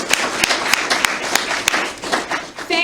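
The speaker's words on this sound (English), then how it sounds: "One more round of applause for our kickoff" An audience claps at an underground rock festival held for a credit union cause. The applause is steady and crowded, with sharp individual claps standing out near the front, and it continues throughout.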